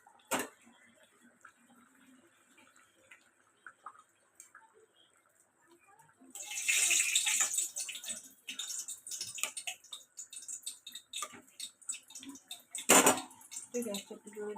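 Fish go into a pot of simmering vegetable curry on a gas stove, starting a sudden loud burst of sizzling and bubbling with clinks of utensils after a quiet start.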